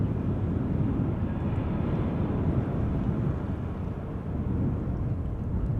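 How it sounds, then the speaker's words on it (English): A Norwegian Boeing 737 MAX 8 arriving at Amsterdam Schiphol from Stockholm, heard as a steady, loud, broadband jet roar that holds evenly throughout with no voices. "Max 8. Norwegian flight 84533 arriving from Stockholm."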